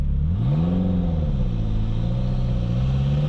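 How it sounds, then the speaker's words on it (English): Lotus Esprit turbo engine running with no silencer, the turbo venting straight to atmosphere; a loud, close, steady rumbling idle with a slight rise and fall in pitch. "the fact that I don't have any kind of silencer anymore means that it's like turbo straight to atmosphere now"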